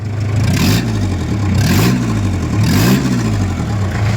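Mitsubishi L200 Cyclone pickup's engine revved in repeated bursts, three rising-and-falling throttle blips over a steady idle, loud and close.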